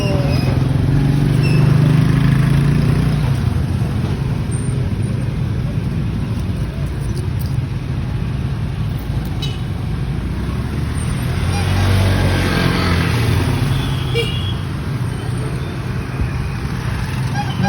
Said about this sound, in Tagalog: Traffic yan dito banda.